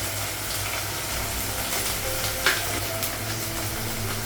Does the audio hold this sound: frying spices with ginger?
yes